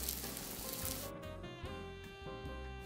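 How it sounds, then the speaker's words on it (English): Polish apple placki sizzling in a frying pan, a steady broadband crackle of hot fat under continuous tonal music, close and fairly loud throughout. "when you're frying the Plackis, make sure that they don't touch each other"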